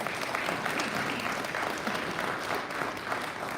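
Rotary club members give a presenter another round of applause after a Polio Plus update, a full, continuous burst of clapping from a seated audience, close and steady for the whole stretch.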